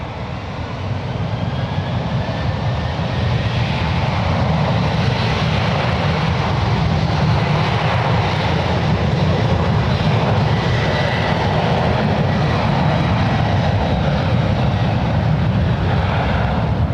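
A JetBlue jet airliner lined up on runway 1 left at San Francisco International Airport gives off a loud, sustained engine roar, broad and steady throughout with a slight swell toward the middle.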